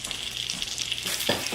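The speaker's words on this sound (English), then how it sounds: "right into the pan. Hear that sizzle?" Filet mignon sizzles steadily in a hot pan, a bright continuous crackle and hiss with no talk over it.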